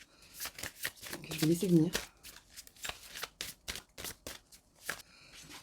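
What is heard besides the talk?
tarot cards being shuffled and drawn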